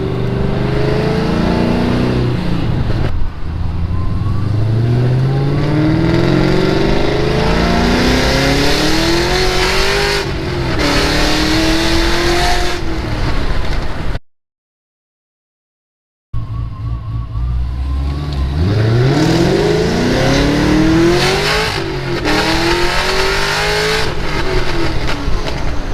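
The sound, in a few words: Pontiac GTO engine revving with ported 90mm throttle body whine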